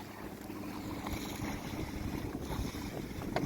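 A sailboat under sail, heard as steady wind rush and water wash against the hull with faint creaks and small knocks, fairly quiet throughout.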